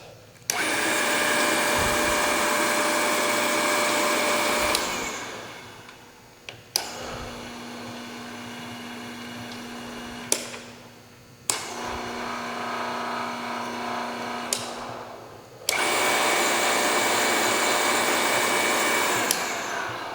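An SCMI T110i sliding and tilting 9 hp shaper with a four-roll power feed runs in loud sustained stretches, stopping and restarting several times with brief thumps between the runs.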